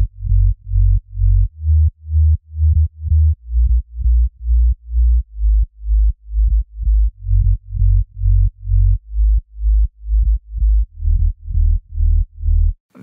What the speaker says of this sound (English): And for the sub bass, I use the 3X oscillator from FL Studio, and the sub bass sounds like this.